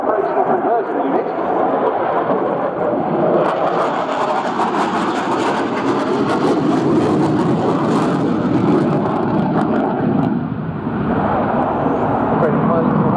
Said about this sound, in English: Mark, it really does show outstanding manoeuvrability, this aeroplane